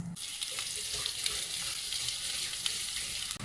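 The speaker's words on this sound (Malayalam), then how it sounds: "വളരെ ലൈറ്റായിട്ട് ഫ്രൈ ചെയ്തെടുക്കുന്നത്" Marinated brinjal slices frying lightly in a pan, giving a steady, dense sizzle that holds evenly throughout with no voices.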